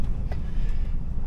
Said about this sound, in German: dann kommt noch ein PKW